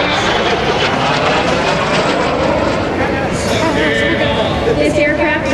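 Lockheed T-33 jet, a 1958 example, roaring steadily through its final loop at an air show, loud and continuous with broadband engine noise and crowd chatter beneath.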